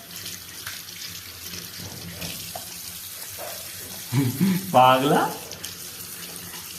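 A tap runs into a sink while a child named Dodo has his face washed, a faint steady water hiss under a woman's speech, with a brief louder splash near the end.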